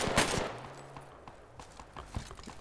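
Gunfire in the tactical shooter game Project Reality, with a sharp close shot followed by scattered single cracks and more distant reports over quiet background, no talk.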